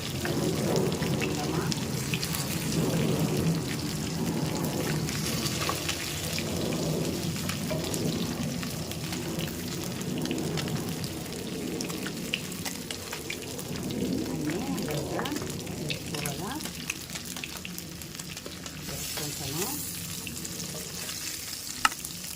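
Pieces of rui fish fry in hot oil, giving a continuous crackling sizzle with rain-like spattering and occasional stirring. Someone talks over the frying at intervals.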